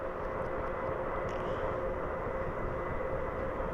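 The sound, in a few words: turboprop airplane lining up for takeoff in a flight simulator video game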